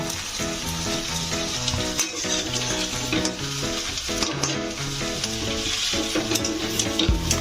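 Fried peanuts being stirred into chowmein in a pan at home, steady scraping of the utensil against the pan with continuous sizzling throughout, close and fairly loud, with no talking.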